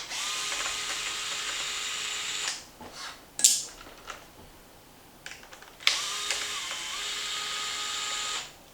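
A small power driver whirs steadily while backing 2mm retaining screws out of the upper shock pins of an XMAXX RC truck. There are two long runs with brief ratcheting clicks and handling noise between them, recorded close with no talk.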